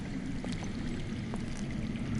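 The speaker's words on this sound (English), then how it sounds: "I hear water. From underground." Faint, steady rushing of water flowing underground in a Game of Thrones video game, a soft continuous wash with a few light splashy ticks, heard alone.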